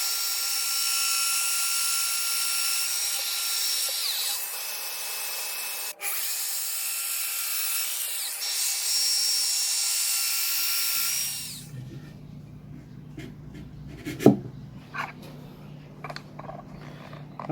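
A Festool Domino XL joiner cuts into recycled Oregon wood with a steady high whine for about eleven seconds, then stops, leaving quiet clicks and handling knocks.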